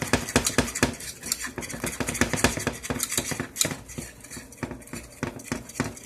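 A utensil stirs white sauce in a pot in a home country kitchen, making rapid, close metallic clinks and scrapes against the pot in a busy, continuous rhythm.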